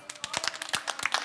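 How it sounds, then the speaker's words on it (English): Audience at a sobriety talk clapping together, a quick burst of close, dense hand claps lasting barely over a second, with no voices over it. "Let's give ourselves a clap"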